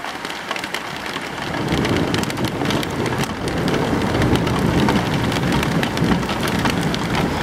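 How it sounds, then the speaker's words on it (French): A strong June thunderstorm with an arcus cloud at Amboise, France, heard from inside a car: heavy rain builds into a loud, dense, continuous drumming with low rumbling underneath, no speech. "on est vraiment à la phase active de l'orage"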